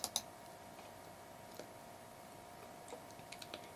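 A computer mouse clicks faintly in a quiet room, a couple of sharp clicks at the start, then scattered soft taps later over a steady background hiss.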